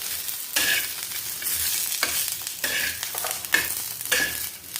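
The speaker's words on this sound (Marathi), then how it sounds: "लसूण भाजून घेणार आहोत, 10-12 पाकळ्या. 4-5 तुकडे अद्रकचे." Garlic cloves and ginger pieces are dry-roasted and stirred on a clay pan, with repeated scraping strokes in an irregular rhythm over a soft sizzle, close and fairly loud.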